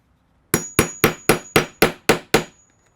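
Hammer striking a rivet setter tool to set a rivet on a handbag: eight sharp, evenly spaced metallic blows in quick succession, close and loud against a quiet background.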